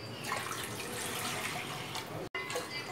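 Water pours steadily into a large pot for boiling rice, a continuous splashing rush with a momentary break near the end, heard up close without speech.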